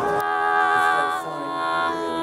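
Zynaptiq Orange Vocoder 4 plugin with its pitch shifted far down gives a buzzy, electric, harmonically dense synthetic tone, sustained with a shift partway through and no voice over it.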